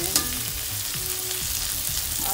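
Tomatoes for a sardines and Baguio beans dish frying in a pan, a close, steady hiss and crackle of sizzling throughout.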